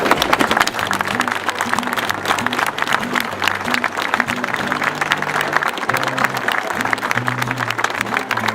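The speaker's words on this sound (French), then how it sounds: "Nous allons faire simplement une minute d'applaudissement pour un gars qui est simple et gentil." Sustained applause from a gathered crowd, a minute of clapping in memory of Patrick, a 56-year-old runner from an aluminium plant's jogging club, dense and steady throughout with faint low murmuring or tonal background underneath.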